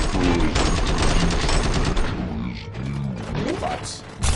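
Gunfire in the video game RoboCop: Rogue City, a dense burst of loud shots that fills the first two seconds, then breaks into scattered bangs and a final sharp blast amid game audio and talking voices.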